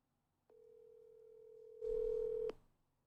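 A single steady telephone tone sounds while a call is placed, starting abruptly and holding for about two seconds, then growing louder with added handset noise before cutting off with a click.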